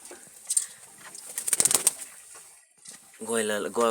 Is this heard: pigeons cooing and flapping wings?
yes